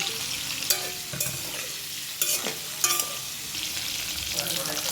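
An egg fries in oil with salt and turmeric in a pan, giving a steady soft sizzle broken by a few sharp clinks and scrapes of a utensil stirring.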